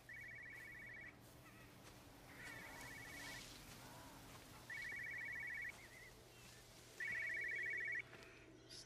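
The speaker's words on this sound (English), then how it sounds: "I'm hearing a cell phone." Cell phone ringing in the game Everybody's Gone to the Rapture, four separate bursts of trilling electronic ring, each about a second long, quiet amid faint ambient hum, growing louder with each ring.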